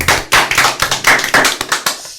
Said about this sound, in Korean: 일단 박수부터 칠까요?